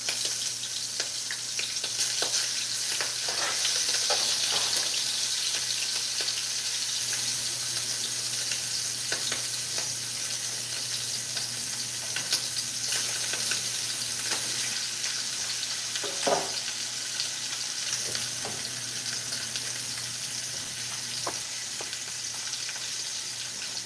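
Butterflied pieces of food fry in a pan with a continuous soft sizzle and crackle, occasional clicks and taps of handling, and a quiet hum underneath, without any talking.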